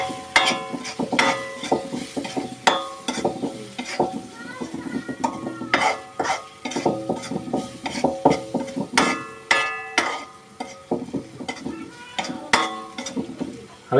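Spoon stirring egg bhurji masala with chilli and turmeric in a pan, a steady run of scraping, clinking strokes over a faint sizzle, close and fairly loud throughout with no talking.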